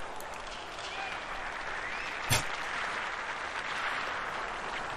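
Polite crowd applause in the NHL 04 hockey video game, a steady wash of clapping at moderate level with one sharp hit partway through.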